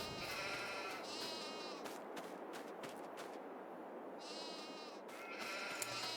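A flock of mountain sheep in Farming Simulator 22 gives repeated wavering bleats that come and go over a constant shuffling flock noise at a modest level, with a few sharp clicks.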